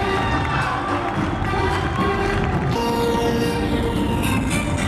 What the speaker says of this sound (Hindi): तालियों की आवाज कम नहीं होनी चाहिए।